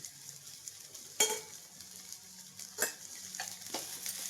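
Fenugreek leaves frying in a pan make a soft steady sizzle, with a few sharp stirring scrapes and taps standing out over it, close but quiet.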